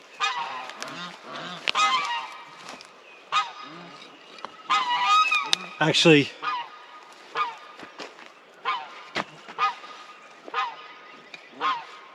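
Geese honking repeatedly on a homestead with chickens, a flock calling in loud irregular bursts close by, with a brief spoken word mixed in.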